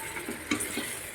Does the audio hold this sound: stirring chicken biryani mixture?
yes